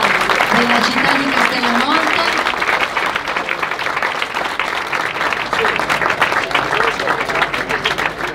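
A crowd at the opening of a ceramics exhibition in Castellamonte, Italy, applauds steadily, a dense wash of clapping that continues for several seconds, with voices speaking over it.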